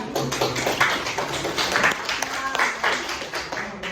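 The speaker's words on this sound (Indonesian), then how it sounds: "Tepuk tangan." Audience clapping their hands at a talk about university majors, a steady patter of many claps mixed with voices and crowd noise throughout.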